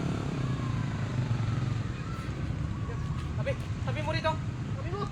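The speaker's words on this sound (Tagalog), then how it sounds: "Patayin mo yung makina!" A motorcycle engine runs steadily nearby with a constant low rumble, while voices talk over it.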